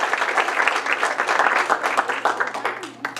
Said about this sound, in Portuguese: E uma salva de palmas para todo esse povo